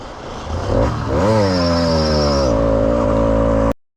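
A small 80cc motorized bicycle engine revs up sharply and holds a high, buzzing whine that rises and shifts in pitch, loud and close, before cutting off abruptly.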